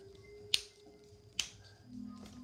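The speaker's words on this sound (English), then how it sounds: "snapping my fingers if you can hear" Two sharp, close finger snaps about a second apart in a quiet room, followed by faint background hum.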